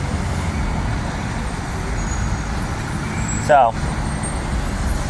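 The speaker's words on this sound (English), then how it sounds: "This truck goes past." A truck rolls past on a city street over steady traffic roar, with a brief hissing, squealing burst midway. Someone talks close by over the passing vehicle.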